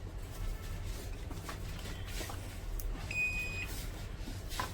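A multimeter set to continuity buzzer mode gives one steady electronic beep of about half a second while testing parts of a 250 amp welding machine, clear over faint background hiss, with no talk.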